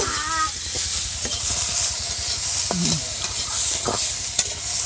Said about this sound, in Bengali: এখন শামুকটা ভেজে নিচ্ছি।